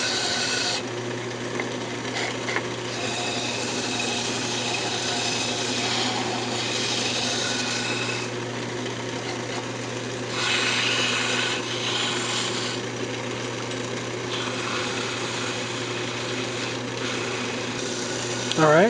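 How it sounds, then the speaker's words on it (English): A wood lathe spins steadily at low speed while a wooden magic wand is sanded, a continuous whirring hum with a rasping, rubbing grit layered over it, close and even for the whole stretch. "turn the lathe speed down and sand it up"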